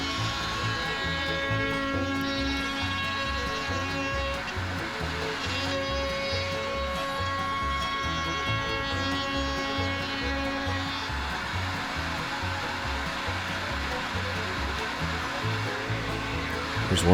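Router table trimming the edge of a wooden cutting board, giving a steady high whine with constant loud motor hum that runs unbroken throughout.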